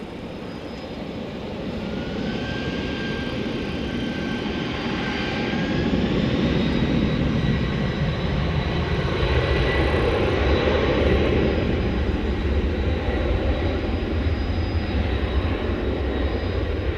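An American Airlines jet departing runway 18 left at DFW Airport at night, its engine roar building steadily from a low rumble to a loud, sustained broadband thunder with faint whining tones above.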